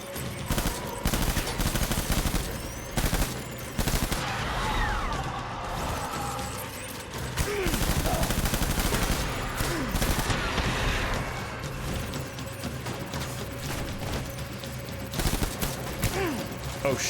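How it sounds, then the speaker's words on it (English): Assault rifle gunfire in the video game Death Stranding, with repeated bursts of rapid automatic shots and sharp cracks against steady game background noise over about seventeen seconds. "Time for some assault rifle."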